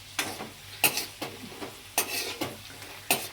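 Cashew nuts frying in a pan on low flame, soft sizzling broken by crisp scrapes and clinks of a spoon stirring against metal roughly every half second, close and fairly quiet, with no talking.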